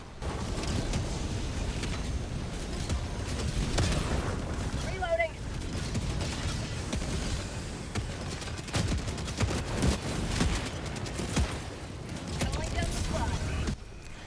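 Continuous barrage of gunfire and explosions in a video game battle against bots, dense and loud throughout with sharp bursts and booms, a voice talking over the fighting.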